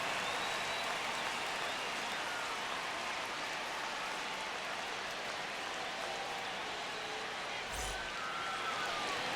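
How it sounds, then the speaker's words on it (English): Stadium crowd in MLB The Show 25 at a Texas Rangers ballpark, a steady broadband roar of cheering and clapping that holds evenly throughout with no talk over it. "The crowd is amped up, ready to get this season underway"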